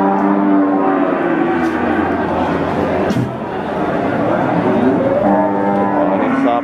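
Limousin and other feeder cattle at a crowded Central Java cattle market bellow in overlapping moos, loud and continuous, with voices chattering faintly in the background.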